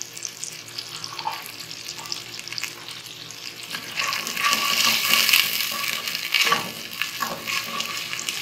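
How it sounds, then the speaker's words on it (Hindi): Onions frying in melted butter in a pan for an Arabic Eid dish, a steady crackling sizzle that swells louder midway with bursts of stirring, no talk. "बटर मेल्ट हो गया। अब हमने इसमें ये प्याज ऐड करनी है।"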